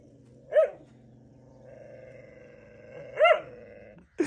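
A dog growls low and steadily, breaking into two sharp, loud barks several seconds apart and then a third abrupt bark at the close, all close by with no talk over it.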